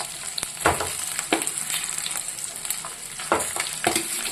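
Mashed potatoes fry and get stirred into a spiced vegetable filling for street-style Frankie rolls, giving a steady close sizzle broken by several sharp spoon scrapes against the pan, with no talking.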